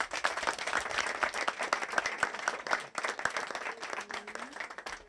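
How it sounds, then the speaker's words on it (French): A crowd at an election rally in Akanda claps and applauds steadily, a dense, close wash of many hands with no break, a few faint voices just under the clapping. "Et applaudissez pour vous."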